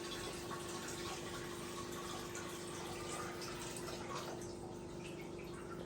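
Water poured steadily into a flowerhorn fish tank, a continuous close splashing and trickling wash that runs unbroken throughout.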